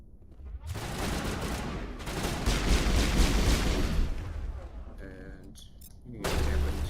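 Repeated shotgun blasts and combat gunfire in the Mass Effect Legendary Edition video game come in dense, loud bursts with brief pauses, overlapping game effects and a voice.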